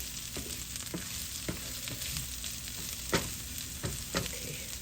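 Bombay potatoes fry and sizzle in a pan, a steady crackling hiss with occasional sharper pops and stirring scrapes, close and continuous with no voices.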